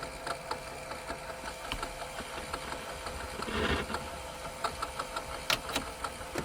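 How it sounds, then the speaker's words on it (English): An 8-track tape player in a 1981 Pontiac Turbo Trans Am runs with a low mechanical whir and hum, faint ticking and small clicks on top and a brief louder rustle midway. "The 8-track player works."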